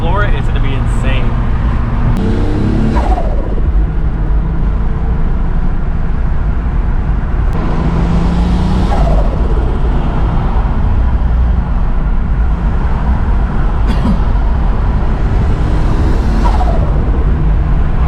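A turbocharged VR6 wagon engine pulling hard under acceleration on the road, loud and close with rising and falling revs and repeated whooshes through the run, and a person talking over it at times.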